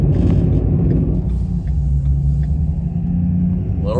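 Deep, steady idle rumble of a 2011 Ford F350 diesel truck engine, loud and close with a constant low throb, faint mechanical clatter on top and a slight rev near the end.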